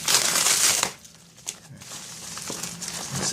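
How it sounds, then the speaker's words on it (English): Plastic packaging holding fidget spinners is opened close by, giving a loud crinkling burst for about a second, followed by quieter rustling and handling. "Let's open the package."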